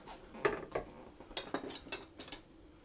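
A saucepan and cooking utensils clatter and clink in a home kitchen while making ginger banana bread, several sharp metallic knocks and scrapes in quick succession, close and alone without talk.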